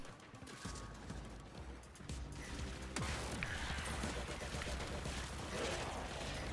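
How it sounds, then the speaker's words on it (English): The charged Cycron energy weapon in the video game Warframe fires before it is fully charged, a sharp discharge amid busy combat effects and crashes, with some talk faintly underneath. "it can shoot like partway through the charge. Even if it's not fully charged yet, you can still shoot"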